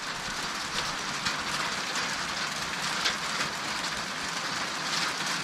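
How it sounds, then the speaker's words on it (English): Pea-size hail comes down outside a cabin as a continuous dense patter, with faint scattered ticks standing out from the steady hiss. No one speaks. "The rain has turned to hail."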